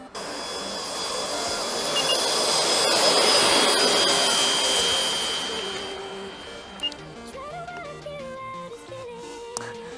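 An RC model F-14 Tomcat variable-sweep jet fighter taxiing with a steady electric-ducted-fan whine that swells louder mid-clip then eases, while tonal beeps and a rising pitch appear toward the end.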